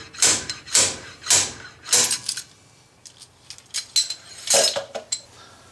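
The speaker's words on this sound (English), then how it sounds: "then it opens up behind the bearing, and then a couple of good whacks" Sharp metallic whacks knocking a wheel bearing out of a Jeep TJ hub, a series of about ten ringing hammer strikes, first evenly spaced and then in quicker uneven bursts, close and clear with no talk.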